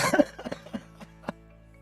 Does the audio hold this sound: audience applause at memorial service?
no